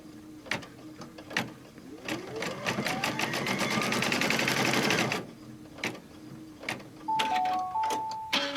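An embroidery sewing machine stitches a mug wrap in the hoop with a rapid mechanical whir lasting a few seconds, framed by clicks and handling noises, followed by short beeps.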